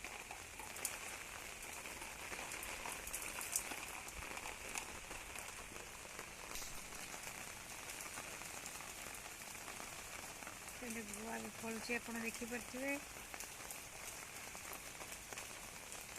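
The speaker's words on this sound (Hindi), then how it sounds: "बहुत वर्षा।" Heavy rain pours steadily in Bhubaneswar, Odisha, a dense hiss of drops on surfaces throughout, while someone speaks briefly over it.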